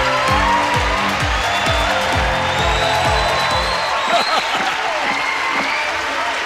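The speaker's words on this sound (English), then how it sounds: "Ladies and gentlemen, please clap the people." Applause from a crowd in the Roblox Brookhaven roleplay game rolls on steadily, with a series of repeated descending whooshing game tones sounding over it during the first few seconds.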